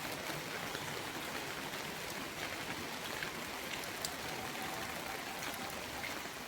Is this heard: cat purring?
no